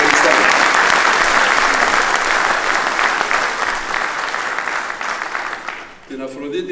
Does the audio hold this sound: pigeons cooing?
no